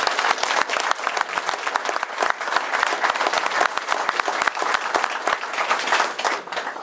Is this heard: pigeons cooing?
no